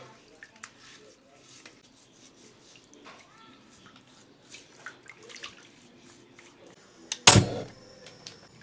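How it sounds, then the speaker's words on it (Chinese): Pork belly skin being rinsed under water: soft drips, splashes and small knocks, then a short loud gush of water near the end, with faint voices in the background. "把这个皮洗一下。"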